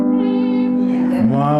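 A person's voice imitates a cat's meow, a single drawn-out harmonic call that bends downward near the end, loud and close with no other talk over it.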